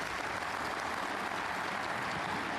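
Steady applause from a snooker crowd at the German Masters, continuous even clapping throughout at moderate distance with no voices over it.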